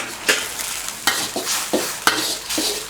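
Green onions and chili stir-fried in a hot pan for a tilapia dish: steady sizzling with repeated scraping strokes roughly every half second to second, close and loud, with no talking.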